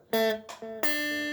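A clean electric guitar plays a short reggae riff with a pull-off: three ringing plucked notes, close and clear, the last one sustaining.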